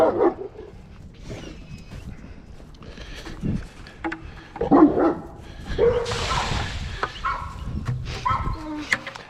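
A dog barks on command a few times, sharp yips spread through the stretch amid outdoor background noise, with faint speech and other animal sounds around.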